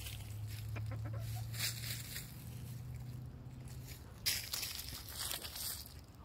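A chicken clucks softly and intermittently while exploring outdoors, faint low murmuring calls with a few brief scratchy rustles, no voices nearby.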